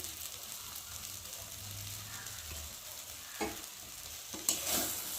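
Mashed potato with salt stirred and fried in a pan: a quiet, steady sizzle with soft scraping strokes of the spoon and a few sharper clinks toward the end, no voices.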